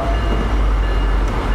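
Caltrain commuter train running in Train Simulator 2018 on the San Jose to San Francisco line, a loud steady low rumble of the train in motion with a faint tone above, no voices.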